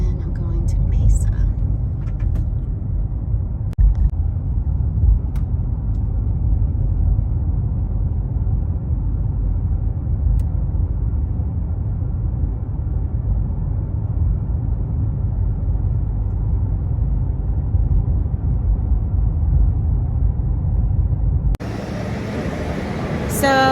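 Steady low road rumble and engine drone from a vehicle cruising along the highway between Sedona and Phoenix, constant and close, with wind noise throughout and a brief change in tone near the end.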